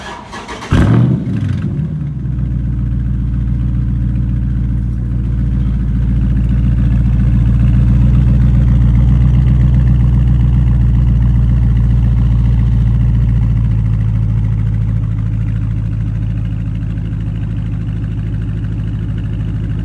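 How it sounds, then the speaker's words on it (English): An SRT car's engine cold-starts with a sharp crank burst, then settles into a loud, deep, steady rumble with a slight swell in the middle, heard up close without any talk. "I'm about to get it with a cold start, kind of in the open right now too, just so you can get an idea of how loud this joint is"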